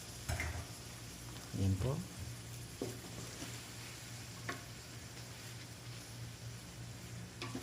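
Sliced beef frying with onions in a pan, a steady soft sizzle running throughout, with a brief spoken remark near the start.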